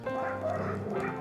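Dogs barking and yipping in a muddy, rain-soaked enclosure where larger and smaller dogs are kept together, the sound close and loud and filling the whole short stretch.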